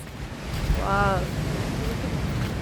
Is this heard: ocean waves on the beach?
yes